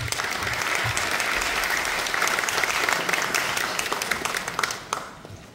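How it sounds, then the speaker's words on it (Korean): An audience at a Goyang special city ceremony applauding as the mayor is invited to the stage, a dense sustained round of clapping from a large crowd that tapers off at the end. "고향 특례시 미래에 대한 기대의 박수 부탁드립니다"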